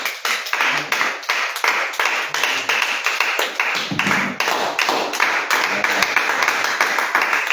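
A church congregation claps in steady unison to acclaim the Lord, sharp regular hand claps in a quick even rhythm lasting several seconds, close and prominent with no spoken words.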